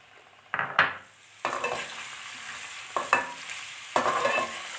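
Tinda (apple gourd) pieces frying in half a cup of oil in a kadhai: a steady sizzle broken by several loud bursts of spatter and stirring clatter, close and with no voices.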